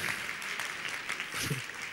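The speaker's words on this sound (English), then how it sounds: "How about a huge round of applause for Ahmed Varsi?" An awards-night audience at a Muslim News Awards for Excellence ceremony claps in a dense, sustained burst of applause filling the hall.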